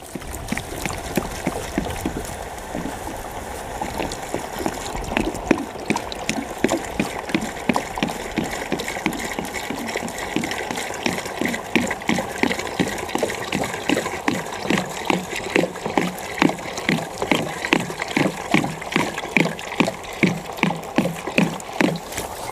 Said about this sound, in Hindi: अब हम डालने वाले हैं इसके अंदर पानी तो इसको हम आधा पानी से भर देंगे